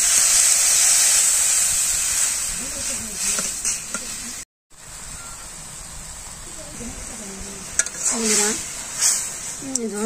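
Water poured into vegetables cooking in a pot in a village kitchen gives a loud, steady steaming hiss and sizzle, with stirring clinks and someone talking over it.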